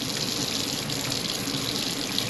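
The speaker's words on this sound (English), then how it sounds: "Turn on the water." Water runs steadily from a camper faucet being winterized with antifreeze, a continuous broadband rush that holds even for the full stretch with no talk.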